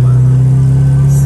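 A Chevrolet Chevette engine runs with a steady, loud low drone that holds an even pitch throughout, heard up close from inside the car.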